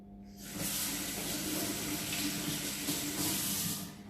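A kitchen tap runs steadily for a few seconds while someone washes their hands after rolling dough for Portuguese coconut cakes, a soft even splashing hiss of water into a sink that starts and stops cleanly.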